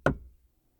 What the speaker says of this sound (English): there came a knocking at the street door